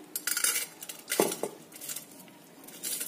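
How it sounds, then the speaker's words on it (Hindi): Dry rice grains pour and rattle against a metal pressure cooker in a few short bursts, with light clinks between. "सबसे पहले चावल को डालेंगे कुकर में।"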